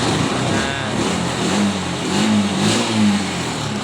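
Honda TMX 125 motorcycle engine running close by, a steady mid-pitched idle with slight rises in revs and a continuous rumble throughout.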